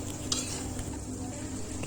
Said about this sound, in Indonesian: kemudian kita aduk-aduk sampai semuanya tercampur